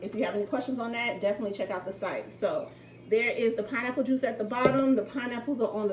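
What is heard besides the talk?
No distinct noise like a dog, phone or traffic.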